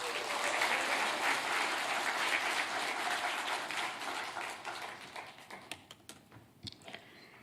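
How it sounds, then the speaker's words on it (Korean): A church congregation claps to welcome a speaker at a Sunday service, loud massed applause that thins out and fades to scattered individual claps toward the end. "우리 나오실 때 박수로 환영하겠습니다."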